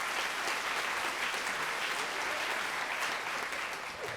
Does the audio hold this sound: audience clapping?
yes